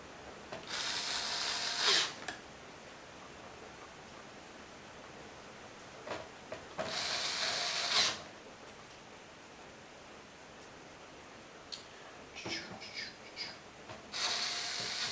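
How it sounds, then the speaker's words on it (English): Screws being driven into a PC case during a rig rebuild, three separate bursts of close mechanical whirring and ratcheting, each lasting a second or two, with quiet stretches and a few small clicks between. "Just installing screws here."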